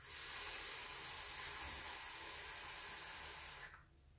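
A Steam Crave Glaz RDSA vape fired at 60 watts gives a steady, loud airy hiss of vapor that runs for several seconds and then cuts off abruptly, leaving quiet.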